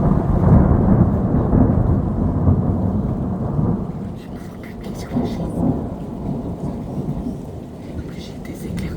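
A violent thunderstorm in Pfastatt, with heavy rain hissing steadily and deep thunder rumbling loud and close at the start, then fading to softer rolls under the continuing downpour.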